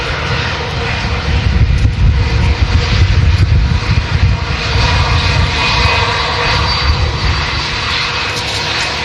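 Jet engines of a Finnair Airbus A321 airliner roar loud and steady at an airport, a broad rumbling drone that holds through the whole stretch without talking.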